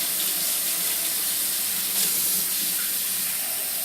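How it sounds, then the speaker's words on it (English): Lukewarm tap water runs steadily into a container while bread is being made, a constant broadband splashing hiss with no pause and no voices. "I'm going to kind of put lukewarm water in"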